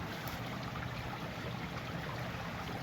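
A river runs behind a hut at the edge of a rice field, giving a steady soft wash of flowing water that stays even and moderately faint throughout, with no voices.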